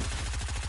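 SMG gunfire in Fortnite rattles in a rapid, even burst of close, loud shots, about a dozen in under a second.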